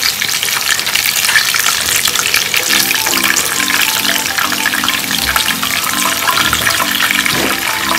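Chicken pieces deep-frying in hot oil, a steady loud sizzle and crackle that fills the whole stretch with no talk.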